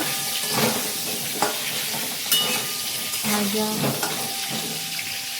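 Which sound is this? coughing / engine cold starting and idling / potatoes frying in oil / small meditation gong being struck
potatoes frying in oil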